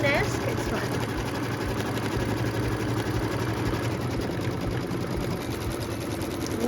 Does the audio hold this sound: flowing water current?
no